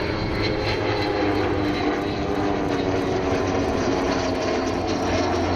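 A continuous, steady drone of an Avro Vulcan bomber flying close with two light propeller aircraft at RAF Cosford, holding at an even level throughout without speech.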